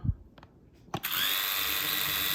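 A TOPRCBOXS S2 mini drone with 1080P camera spins up its motors after a few clicks, settling into a steady high-pitched whine close by.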